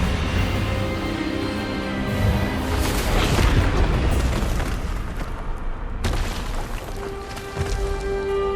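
A booming magical spell blast, the Expelliarmus disarming charm in the video game Hogwarts Legacy, rumbling loud and sustained for several seconds before fading into a lingering tonal hum.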